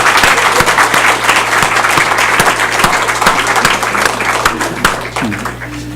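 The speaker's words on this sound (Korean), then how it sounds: "다시 한번 크게 우리 감사 박수합니다." Church congregation applauds its pastor with steady, dense clapping that holds for the whole stretch, a low hum running underneath and the clapping thinning slightly near the end.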